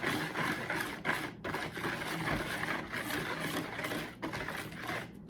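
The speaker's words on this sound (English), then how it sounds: "So I did go ahead and change out my spoon for a whisk. You want to make sure it's blended good." Brownie batter is whisked by hand in a bowl, a steady rapid scraping and clatter running throughout at close range, without speech.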